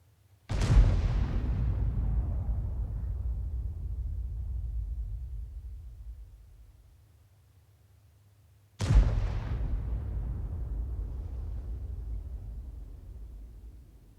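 Two heavy artillery shell impacts in World of Tanks, striking a Minotauro tank destroyer; each a sharp boom with a long rumbling decay, spaced about eight seconds apart, loud and with no voices.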